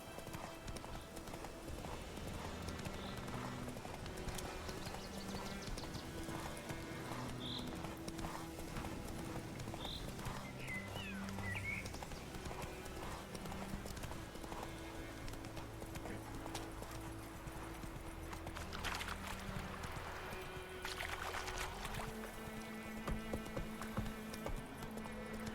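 Roach the horse's hooves clip-clop in The Witcher 3, a steady walking rhythm of hoof falls over faint game ambience and music, with a brief whinny partway through.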